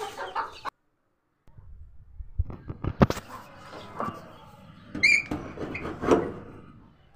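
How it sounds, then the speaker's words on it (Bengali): Hens confined in a pen at a house cluck in short, scattered bursts, loudest near the end, with a brief silent gap early on and a door-like thump among them. "যেখানে আমি আপাতত মুরগিগুলোকে রেখেছি।"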